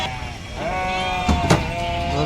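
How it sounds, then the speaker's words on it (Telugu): Sheep bleat close by while being unloaded at Pebbair market, several overlapping calls over a steady flock murmur, with a couple of sharp knocks partway through. "ఇవి మొత్తం ఒకటే ఇంటి గొర్రెలు"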